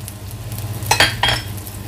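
A few quick metallic scrapes and taps of a spoon stir sliced onions with ginger and garlic in a frying pan for Kerala fish molee, over a soft steady sizzle.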